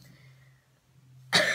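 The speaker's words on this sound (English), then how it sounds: "I'm trying not to cough." A single sharp cough bursts out near the end, loud and close, after a stretch of quiet low hum.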